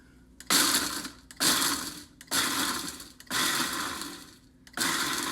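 A Ninja blender grinds dried bread into breadcrumbs in five loud, close pulses, each a harsh whirring burst of about a second separated by short pauses, with no talking.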